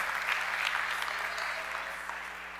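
A church congregation applauds at a sermon, a steady dense wash of many hands clapping at close range, sustained evenly and without voices.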